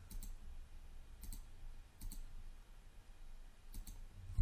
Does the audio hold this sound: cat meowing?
no